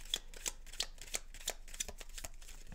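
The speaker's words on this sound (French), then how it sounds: "je vais juste tirer une carte pour développer" Tarot cards are shuffled and flicked through the deck in quick, crisp riffles, about eight sharp papery snaps in a steady rhythm, close and quiet, with no talk.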